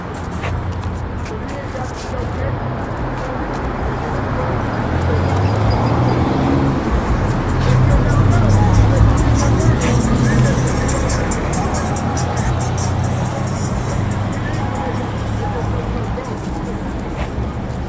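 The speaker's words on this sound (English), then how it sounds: "that is the third Arrowhead truck I've seen come by this location" Road traffic passes outside a state hospital and prison complex in Phoenix, Arizona, as an Arrowhead delivery truck drives by, its rumble swelling mid-clip then easing, with a voice talking over the street noise.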